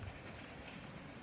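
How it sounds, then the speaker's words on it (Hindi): A long train rolls past, a steady broadband rumble with faint rail clatter holding evenly, at moderate distance with no speech. "यहाँ से रेलगाड़ी भी गुजरता है।"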